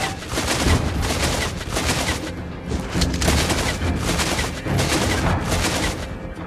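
Beatrix fires her guns in the Mobile Legends video game, loud dense bursts of gunfire in several rapid volleys with short gaps between them, dominating the whole stretch.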